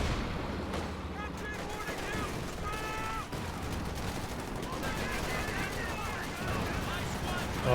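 Battle gunfire from Company of Heroes 2, dense distant shots and bursts layered over a constant roar of game audio, with speech mixed in.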